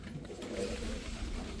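Punjabi pigeons of the original Punjab breed cooing softly and continuously in a loft, low murmuring calls close by with no talk.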